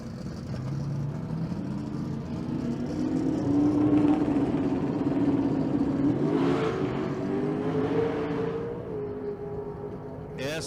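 A 1989 Chevrolet S10 on a drag strip run, engine revving and pulling in a rising whine from a distance, moderately faint, with a brief burst of noise near the end.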